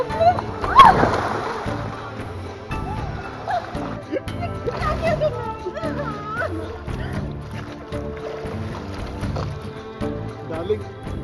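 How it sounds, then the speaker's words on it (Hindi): Splashing in water as someone dives in, with sloshing and splatter amid a busy mix of other sounds while people talk throughout. "डार्लिंग, इसे कहते हैं पानी में गोते लगाना।"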